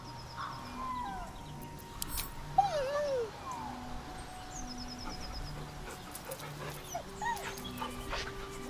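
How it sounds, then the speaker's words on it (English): A dog in the video game Baldur's Gate 3 gives a few soft, high whines that rise and fall, moderately close over a low ambient game drone. "With a deep, heartbroken whine, the dog bows his head."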